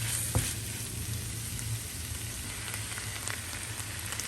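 Chicken frying in a pan with light soy sauce for chicken pastil: a steady, close sizzle with crackling spatters and a brief clatter near the start, continuous throughout with no voices.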